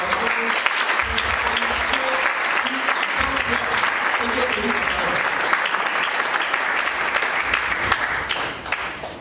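A church congregation applauds and cheers to welcome a pastor: dense, sustained clapping from a large crowd indoors, steady and loud throughout with scattered voices mixed in.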